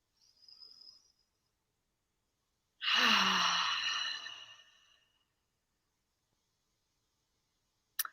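A single long, deep breath during a guided breathing exercise with hands resting on the chest and belly, heard close and alone as a loud, airy exhale lasting about two seconds amid otherwise quiet surroundings.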